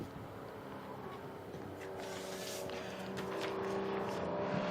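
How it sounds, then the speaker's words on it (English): Historic Porsche race cars heading into the pits drone steadily in the distance, engine noise slowly swelling as they approach, mixed with crowd and track ambience. "The Porsches will be headed for the pits and the paddock."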